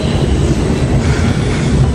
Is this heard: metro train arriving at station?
yes